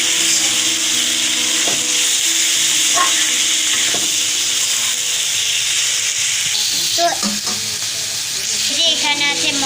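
Goat mutton frying with browned onions in a pan gives a loud, steady sizzle throughout, with several stirring knocks and scrapes of a utensil against the pan.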